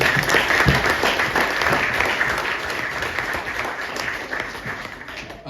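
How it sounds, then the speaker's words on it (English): Warm, continuous applause from an audience at a high school wrestling awards ceremony, many hands clapping steadily at close range for several seconds without a break. "Round of applause for Mario."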